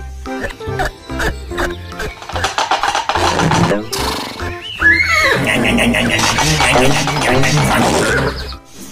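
Horse neighing in the Jurassic World Evolution 2 video game, a loud, drawn-out whinny amid busy game sound and music, with a voice talking over parts of it.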